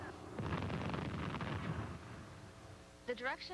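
A deep rumbling blast rolls out for a couple of seconds and fades, followed by a shout.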